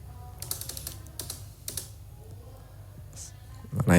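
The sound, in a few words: typing numbers into a calculator to subtract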